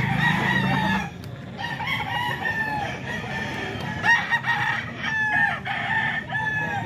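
Several banded gamefowl roosters, one seven months old, crow repeatedly in overlapping calls at close to middle distance, with clucking and background farm noise between the crows.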